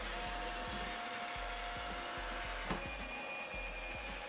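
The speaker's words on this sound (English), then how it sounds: "tell my Roomba to go clean a specific room" A robot vacuum cleaner's steady whirring motor drones continuously, with faint rhythmic ticks underneath, fairly close and even in loudness.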